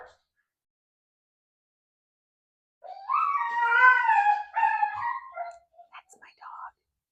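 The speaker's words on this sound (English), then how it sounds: "That's my dog." A dog howls and whimpers excitedly indoors, a rising, wavering howl lasting a couple of seconds followed by shorter whines and yelps, heard alone after silence.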